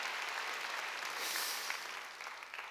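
A church congregation claps steadily for a few seconds, a dense wash of applause at even strength that eases slightly toward the end.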